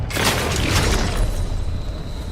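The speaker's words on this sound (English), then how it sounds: "It's a great shotgun if you're able to hit any shots with it." Shotgun blast in the video game The Outer Worlds 2, a single loud booming shot with a burst of noise that trails off into a fading reverberant tail.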